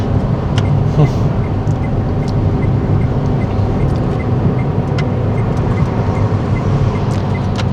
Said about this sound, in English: I'm in 4th gear, full gas.